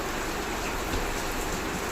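Steady rain falls in a dense, even hiss, unbroken throughout the short stretch with no voices.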